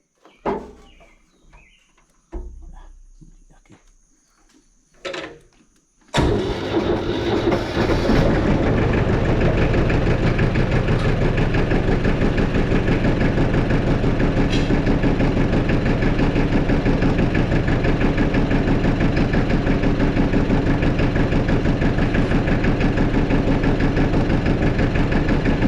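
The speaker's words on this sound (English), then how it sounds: "Let me start the little tractor back up." A small engine starts up after some quiet handling noises, then settles into a loud, steady idle that runs on without a break.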